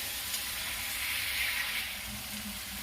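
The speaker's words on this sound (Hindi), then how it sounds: "हरी मिर्च का पेस्ट बना के रखी हूँ इसे डालूंगी और इसे लगभग 5 मिनट मैं भूनूंगी" Green chili paste frying in oil on a high flame for a mustard greens and spinach curry, giving a steady, even sizzle and hiss throughout with no talking.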